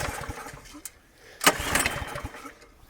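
A Craftsman SB410 snowblower engine is pulled over, sputtering in short bursts and failing to catch before a louder surge, close by with a voice speaking.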